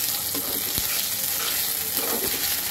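Onions frying in a pan as ginger paste and garlic paste are stirred in, part of a home-style mutton liver dish; a steady, close sizzle runs throughout, broken by a few soft spoon scrapes, with no talking.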